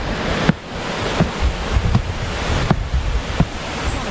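Waterfall and flowing water at Stony Brook State Park, a steady broadband rush of falling water close by with occasional gusty bumps, alone without talk.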